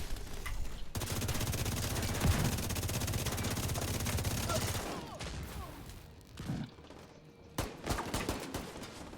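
Automated gun turret in The Division 2 fires a loud, rapid sustained burst for several seconds, then scattered shots and thuds follow over game noise with a faint voice.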